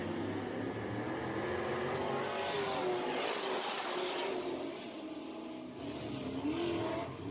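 Race cars at Deep South Speedway roar together off the start, engines revving loud and close in a dense, continuous drone that dips briefly and then swells again with rising engine notes.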